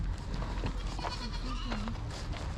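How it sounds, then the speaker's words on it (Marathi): Goats bleat on a goat farm, several short wavering calls close by over a noisy outdoor background. "तर बघा शेळ्या बघा किती आहेत"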